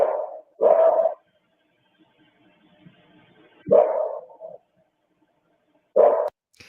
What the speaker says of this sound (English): If you notice, those barks are a little bit separated.